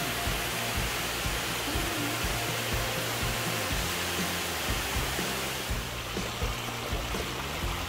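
Close, loud roar of a mighty waterfall along the Areuse river, a constant broadband rush that softens slightly near the end, with no talking.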